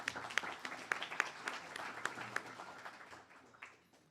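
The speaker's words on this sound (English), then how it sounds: "So please give her a round of applause." A small audience claps at an internal medicine resident graduation, a faint, scattered round of applause with individual sharp claps that thins out and fades over a few seconds.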